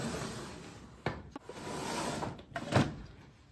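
A makeup drawer holding concealers slides open with a soft scrape and a couple of light clicks and knocks, close-up and quiet in an otherwise still room.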